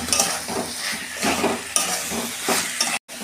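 Fish curry with potato, eggplant and drumstick being sautéed in a pan, giving a loud, steady sizzle with rhythmic stirring scrapes about twice a second, close and continuous until a brief cutoff near the end.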